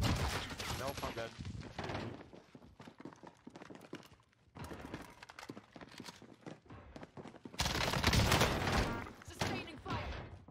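Gunfire in the video game Call of Duty Warzone (Cold War), MAC-10 submachine gun bursts crackling in rapid, uneven volleys, with the loudest stretch near the end.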